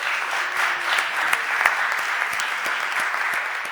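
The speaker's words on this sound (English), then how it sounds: "Give her a round of applause" A chamber full of people at a Philadelphia City Council stated meeting claps in acknowledgment of a staff member. The applause is steady and mid-distance, with a few sharper individual claps standing out over the sustained patter.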